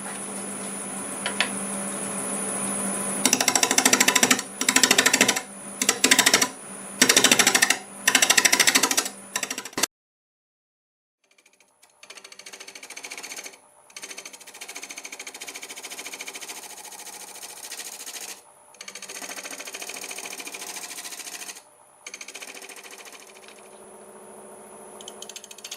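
A wood lathe spins a wet cherry bowl at about 800 RPM, a steady mechanical whir with choppy, bursting cutting noise from the tool for several seconds, then a brief pause before a quieter, continuous hum with occasional dropouts.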